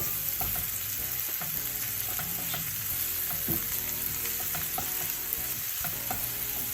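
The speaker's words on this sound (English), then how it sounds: "the lovely onion is sizzling and sweating away" Steady loud sizzling of onion frying in a pan, with occasional scrapes and clinks of stirring, no voices.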